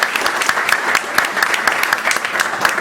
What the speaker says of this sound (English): all the members to welcome Mr. Ratan Shamal with a loud applause.